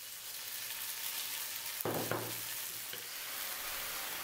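Rice noodles for pad thai sizzle steadily in a wok on a Compact Cook Elite, with a brief clatter of stirring partway through and no voices.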